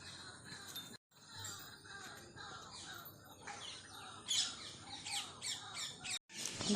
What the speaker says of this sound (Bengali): ময়ূর ডাকছে এইসব